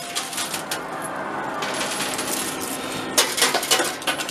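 Metallic clinks and jingles of coins tumbling and dropping in a coin pusher machine, scattered and bright, with a busier burst of clattering near the end.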